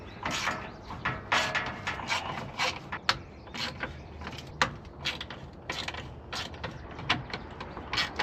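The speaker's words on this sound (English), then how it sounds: "I'm gonna go 1/4 inch drive by hand," Quarter-inch drive ratchet worked by hand to break loose 8mm bolts on an F250 rear shock job, giving repeated sharp clicking and creaking pulses in uneven bursts, close and clear with no talking.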